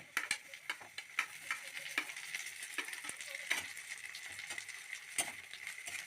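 Ginger, green chili and chopped tomato frying in a pan, a soft, steady sizzle punctuated by frequent sharp ticks and scrapes of a spoon stirring.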